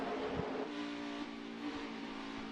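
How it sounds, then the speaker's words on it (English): Xfinity Series race cars run at full throttle on a restart, a dense roaring engine drone with layered high whines from several cars, steady and moderately distant over two and a half seconds. "when you can hear the engine and the throttle position, they're not out of the gas very much on these restarts"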